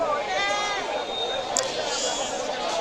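Goats bleating amid a crowded weekly village goat market, repeated calls layered over steady crowd chatter and nearby talk.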